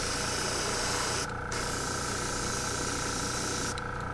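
An airbrush sprays paint onto a square bill crankbait lure, giving a continuous close hiss with a faint tonal whine. The spray dips briefly twice as the flow is feathered.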